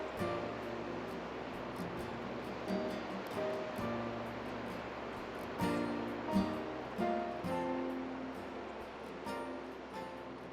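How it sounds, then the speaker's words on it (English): Distant river rapids far below a sheer canyon drop give a steady broadband rush, with gentle wind and faint rustling swelling slightly over it. "You can actually hear the rapids."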